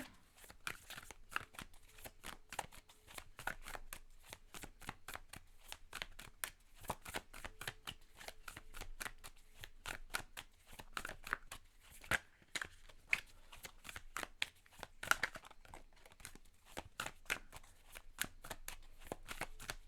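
Tarot cards are shuffled and drawn in a rapid run of crisp riffling flicks and slaps, quiet and close and continuing throughout, with no talk.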